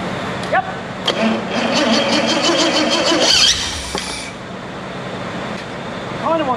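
A Bentley Turbo R engine fitted with a Link Monsoon ECU and sitting in a crane base cranks and fires, running roughly for a few seconds before dying, with clanks and brief voices around it.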